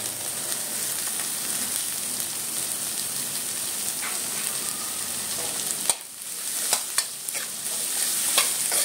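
Garlic, green chillies and onion sizzle steadily in a pan of hot oil, a dense continuous crackle that briefly dips near the end before resuming with a few sharper spatters.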